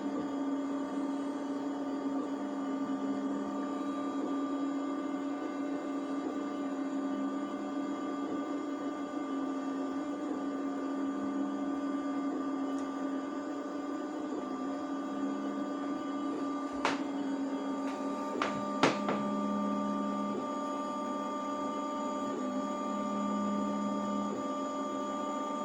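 A Two Trees Sapphire Pro 3D printer runs a print with a steady, even mechanical hum and whirr, joined by a few brief higher stepper-motor whines near the end, heard close and alone with no talk.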